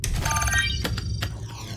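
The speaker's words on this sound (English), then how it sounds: "Biddling signifies a notification chime from Fundamental." A short electronic notification chime in a sci-fi video game set at a space service station: bright, high ringing tones with a few quick repeated pings over a low background hum, moderately loud and without speech.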